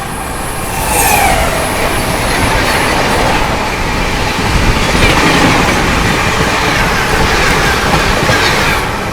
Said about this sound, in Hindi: सामने से आ रही है गोल्डन टेम्पल मेल